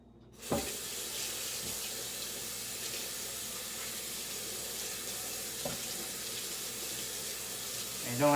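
Tap water runs steadily into a sink while a blender is rinsed out during a soap-making session, a continuous hiss with a few brief knocks and clatters of the blender jar.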